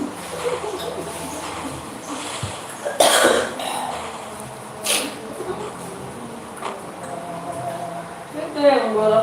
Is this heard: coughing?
yes